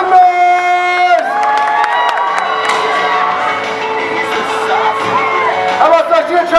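Audience cheering, whooping and shouting, children's voices among them, at a martial arts demo at the Salem Fair, loud and sustained throughout with a steady tonal hum beneath the crowd.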